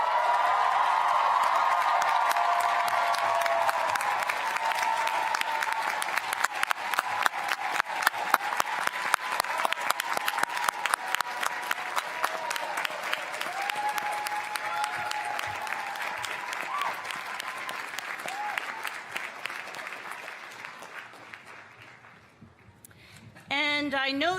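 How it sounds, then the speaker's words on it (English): Sustained, dense applause from a large audience at a graduation ceremony as graduates turn to thank their supporters, the clapping loud and steady before thinning and fading near the end. "give a round of applause to thank those who helped you on this journey"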